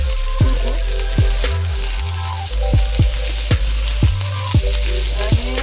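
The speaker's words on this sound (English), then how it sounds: "Now, I'm going to put my onion in. Listen at that pop. Get it popping." Chopped onion sizzling loudly in a hot pan for sautéed shrimp and sea scallops, a steady crackling fry broken by several sharp pops and spatters, close and clear with no talking.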